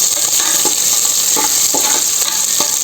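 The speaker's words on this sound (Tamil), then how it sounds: "அதுக்கடுத்து பூண்டு போட்டு ஒரு செகண்ட் வதங்கட்டும்." Garlic for mutton sukka sizzles loudly in a hot pan, a dense continuous hiss broken by a few soft stirring scrapes.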